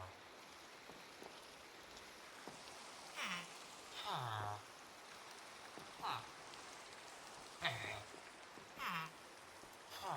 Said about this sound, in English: I know it's raining outside, Drusilla, but you will enjoy it.